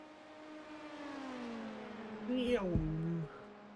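A racing car engine in the iRacing video game, at Spa, whines with a steady pitch that slides downward, then drops sharply as the car passes close by, with a voice talking under it.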